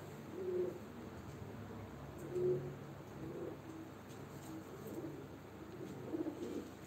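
Pigeons coo softly and repeatedly at a live bird auction, the low throaty calls rising every second or two over a steady indoor background hum.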